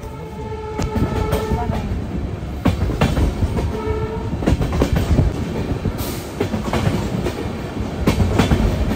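A crowded passenger train rolls along close by on the way to Dudhsagar waterfall, with steady rumbling wheels, clickety-clack rhythm and brief horn tones over continuous noise, no talk.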